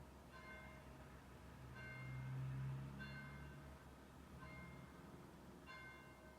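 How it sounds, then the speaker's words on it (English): Church bells ring out in a faint, distant series of repeated strikes, spaced roughly every second or so, over a quiet background hum. "You got the church bells."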